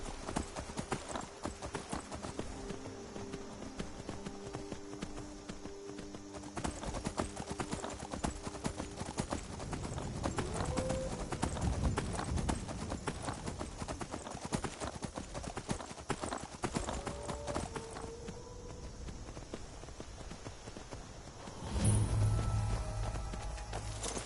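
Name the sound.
horse hooves clip-clopping in Skyrim video game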